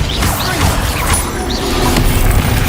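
Bombarda blasting spell impacts in Hogwarts Legacy, a dense crashing burst of magical debris and thuds that fills the whole moment at close, loud level alongside other spell effects.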